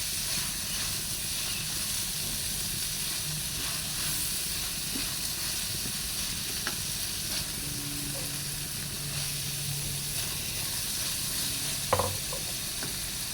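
Cabbage stems, carrots and other vegetables stir-frying in a pan at home, a steady loud sizzle and hiss with occasional clinks and scrapes of stirring.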